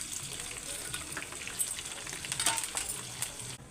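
Sliced onions and curry leaves fry in hot oil with a lively, continuous sizzle and scattered sharp crackles and pops, stopping abruptly at the end.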